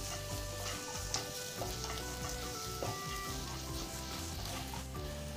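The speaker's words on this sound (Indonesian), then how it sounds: "Kemudian panaskan sedikit minyak, lalu tumis bawang putih dan jahe." Garlic and ginger sizzle steadily in hot oil in a pan, a dense continuous crackle with scattered pops throughout, close and alone with no voices.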